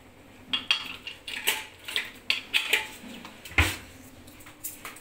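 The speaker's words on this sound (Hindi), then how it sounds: "अरे अरे गिरा जा रहे हैं बर्तन, गिर जा रहे सारे बर्तन।" Wet steel dishes and utensils slipping from a kitchen drying rack clatter in a quick series of sharp, bright clinks and knocks, close by, with one heavier crash near the end and no talking.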